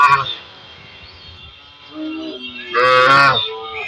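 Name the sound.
cattle mooing at a cattle market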